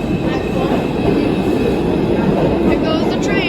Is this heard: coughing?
no